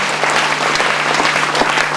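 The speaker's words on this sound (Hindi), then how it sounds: "बहुत बहुत प्यार से करताली धरे से मुकुंद भाई जी का भी हम सब स्वागत करते हैं।" An audience at a spiritual festival inauguration claps to welcome a guest on stage, dense steady applause filling the space, loud and continuous throughout.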